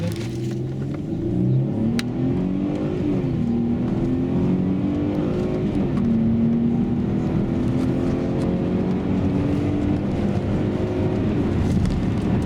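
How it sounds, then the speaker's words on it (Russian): A Mercedes-Benz ML350 with a 3.5-litre V6 running on petrol accelerates in light traffic, its engine note climbing steadily through the gears, loud and continuous from inside the car. "Видим прекрасное ускорение автомобиля так на газе, так на бензине."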